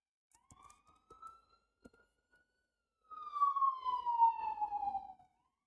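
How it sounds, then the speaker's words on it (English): Police siren on a New York City street: a faint, distant wail at first, then a louder, clearer sweeping tone that falls in pitch and fades out. "there's often sirens and I hear one coming"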